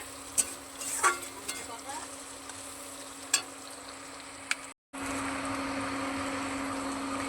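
Meat curry cooking in a pan at night, a steady sizzle with scattered scraping clicks of a spoon stirring, briefly cut off, then a louder continuous frying hiss.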